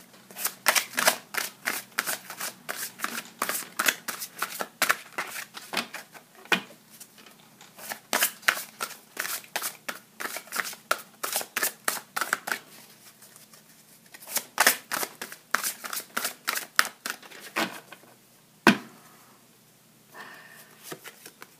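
Large tarot cards being shuffled by hand, a long run of rapid riffling and flicking bursts close up, with short pauses between rounds and a sharp slap near the end.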